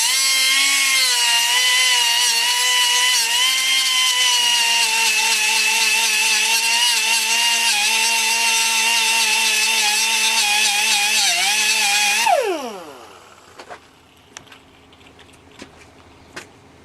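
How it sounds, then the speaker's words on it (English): An air die grinder with a cutoff wheel screams loudly against metal in a steady high whine for about twelve seconds, then spins down with a falling pitch, followed by a few faint clicks. "the best thing to use for grinding is a cutoff wheel. Is what you use in an air die grinder."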